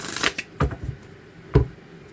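Tarot cards are shuffled in a few quick, crisp riffling bursts, close and clear, with no talking.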